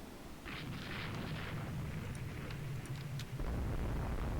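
Massed naval gunfire from a battleship division in Rule the Waves 2, a dense rumbling barrage of heavy booms rolling continuously, with a louder surge near the end.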